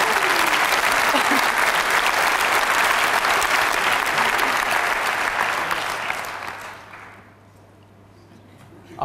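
A television studio audience applauds loudly and evenly for several seconds, then the clapping fades out, leaving near quiet at the end.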